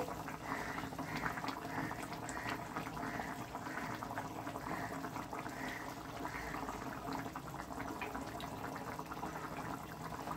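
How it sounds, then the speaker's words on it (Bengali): Hilsa fish curry broth simmers at a steady boil in a pot, with a continuous bubbling, gurgling wash that stays fairly even and close throughout, with no voices. "দেখুন ঝোলটা আমার বেশ সুন্দর ফুটতে শুরু করেছে, মাছগুলো বেশ ভালো সিদ্ধ হচ্ছে।"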